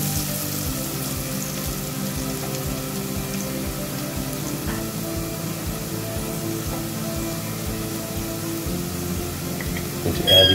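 Mutton curry for a South African Durban-style dish sizzles steadily in a pot over slightly below medium heat, a continuous close frying hiss with faint bubbling and a brief louder clatter at the end, no one talking.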